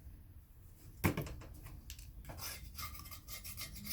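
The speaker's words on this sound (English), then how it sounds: "remove the old gasket, which I just do with a normal scraper" Hand scraper rasping an old gasket off a Suzuki GT750 engine, a series of irregular scraping strokes with a sharp knock at the start, close and fairly quiet, no talking.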